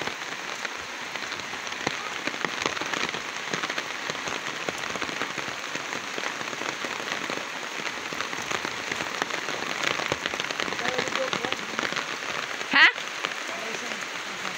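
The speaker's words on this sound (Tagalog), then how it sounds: "Ulan na talaga." Steady rain patters on a surface during the harvest season in the Philippines. The even hiss runs throughout, with a brief sharp knock near the end.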